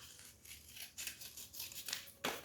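Scissors snipping through folded kinesiology tape, heard up close as a few crisp cutting strokes with a faint crinkle, ending in one sharp final snip.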